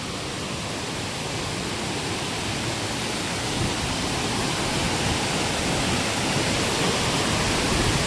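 A waterfall's constant, heavy rush of water that fills the whole clip as an unbroken roar.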